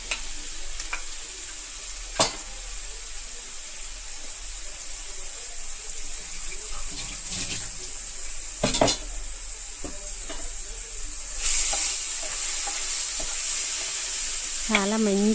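A paste of ground ginger, green chili and spinach sizzles steadily in a hot pan, with occasional scrapes and knocks of stirring. The hiss grows louder and brighter toward the end.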